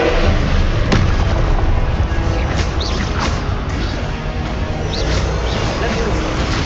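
Confringo and Expelliarmus spell blasts in the video game Hogwarts Legacy, loud dense bursts and crackles layered over continuous combat noise, with a voice speaking the spell names throughout.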